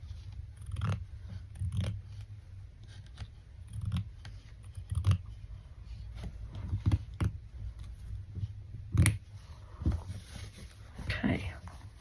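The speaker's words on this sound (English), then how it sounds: "I might cut this a bit shorter and trim this edge here." Scissors snipping and trimming the edge of fabric during a stitchery project, a few quiet irregular cuts with soft rustling handling in between, close and faint under low background noise.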